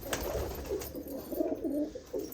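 Teddy and golden pigeons coo in a breeding loft, their low throaty rolling calls repeating close by and overlapping with no talking.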